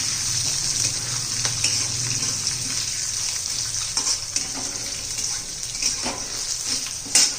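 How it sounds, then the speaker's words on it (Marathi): Green chillies and dal roast in a hot pan with a continuous frying sizzle, punctuated by scraping stirs of a spoon across the pan, close and steady throughout with no voices. "तर आपल्या मिरच्या पण झालेल्या आहेत चांगल्या भाजून"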